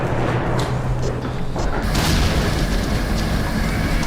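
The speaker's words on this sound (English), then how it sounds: "It sounds like a thunderstorm. More like an explosion." A C4 demolition charge goes off with a deep, rumbling boom that resembles thunder, loud and rolling on for several seconds with no voices over it.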